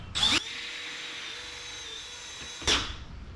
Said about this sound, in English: and then drill until it stops